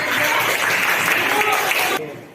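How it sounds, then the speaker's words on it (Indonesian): Brief applause from students in a classroom, a burst of clapping mixed with voices that cuts off abruptly. "Oke, selamat tepuk tangan dulu buat belajar."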